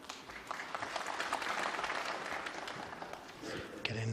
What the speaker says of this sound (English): Getting applause even for easy shots.